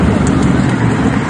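Highway traffic backed up in a jam near a fire scene makes a dense, continuous roar of engines and road noise, loud and steady without breaks.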